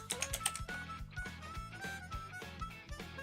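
Typing on a computer keyboard while noting down missing Pokemon types, a quick burst of close, clattering keystrokes at the start settling into a steadier, softer run of taps over faint background music.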